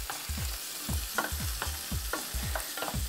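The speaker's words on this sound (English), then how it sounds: "And I'm going to add in my prosciutto as well. Right, give it a stir." Tiger prawns and prosciutto stirred as they fry in a pan, a light sizzle under quick rhythmic scraping and knocking strokes of a utensil against the pan, close and steady, with no speech.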